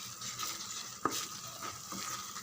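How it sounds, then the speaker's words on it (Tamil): Masala sautés in hot oil while being stirred for a chicken gravy, a continuous sizzle with a single sharp scrape of the spoon partway through. "மசாலா நல்லா செவர வதங்கட்டும்."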